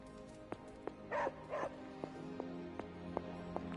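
A dog in the Marvel's Midnight Suns video game barks and yips, with two short bursts near the middle and sharper clicks and thumps spread across a steady, low in-game background hum.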